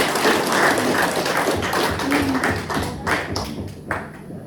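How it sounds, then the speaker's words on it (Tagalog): A church congregation claps together in a dense, steady wash of applause at close range, with the crowd's clapping holding strong throughout and easing slightly near the end. "Bigyan natin ng mas malakas na palakpakan ng Panginoon."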